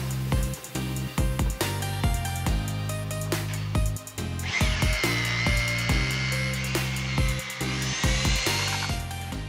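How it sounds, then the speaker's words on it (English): Power tapper cutting threads into holes in a metal motor sled for a giant bandsaw, a close, loud whine of the motor that rises in pitch, with short bursts and stops between passes. "So by tapping some holes with my cool power tapper"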